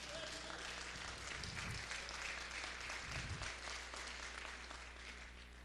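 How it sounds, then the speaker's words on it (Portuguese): A church congregation applauding, a steady wash of clapping from many hands that holds evenly for several seconds, heard from some distance at low volume. "Você pode aplaudir ao Senhor?"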